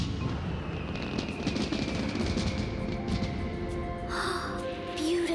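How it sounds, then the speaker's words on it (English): Cartoon fireworks burst and crackle continuously in a rapid, rattling stream of pops under a low rumble, with a brief voice sound near the end. "Fireworks."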